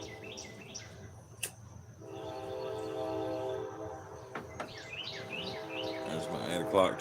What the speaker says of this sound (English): There's my 8 o'clock train.